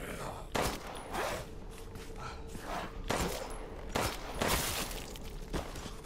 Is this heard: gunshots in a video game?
yes